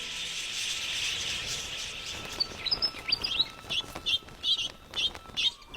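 Wild budgerigars in a flock of over ten thousand at an outback billabong, their chirps and tweets sounding as a dense, steady chatter at first, then as sharper distinct calls rising out of the din, close and fairly loud.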